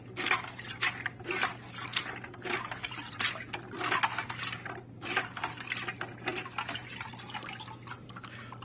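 Ceramic bio-ball media from a SunSun 704-B canister filter rinsed under running water, a steady trickling and splashing stream with irregular drips and clatter, close and moderately quiet, no voices.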